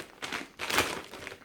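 A plastic bag crinkles and rustles close by in two short bursts of handling, alone with no talk.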